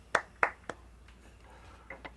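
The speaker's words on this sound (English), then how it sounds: "You're all clapping too" A few faint hand claps from someone at a live remote concert with Minnesota musicians: three quick claps, then a couple of softer, scattered ones trailing off against a quiet background.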